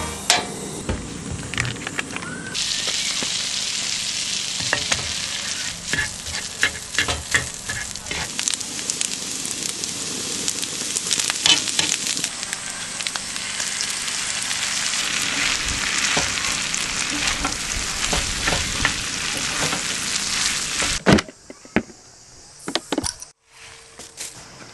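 Steak for a pepper lunch frying loudly in a pan at a campsite, a dense crackling sizzle lasting about twenty seconds with intermittent metallic taps, then cutting off to near quiet with a few clatters.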